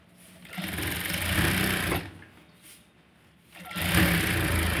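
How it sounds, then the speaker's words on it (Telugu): Sewing machine stitching a princess-cut blouse, a loud steady whir close up that runs, pauses briefly, then starts again. "మనం మిషన్ కుట్టు కూడా వేసుకోవచ్చు"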